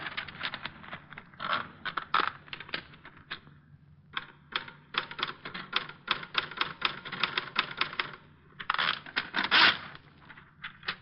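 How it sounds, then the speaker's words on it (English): Typewriter keys clacking in rapid, uneven bursts with brief pauses, close and clear, as an old-time detective radio drama sound effect. "There's a typewriter."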